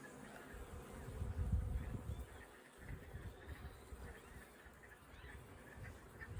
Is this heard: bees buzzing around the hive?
yes